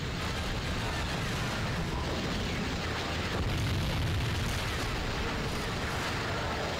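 A Star Destroyer blowing up in Lego Star Wars II: The Original Trilogy, a dense, continuous roar of explosive rumble and crackling debris that stays loud and steady throughout with no pauses.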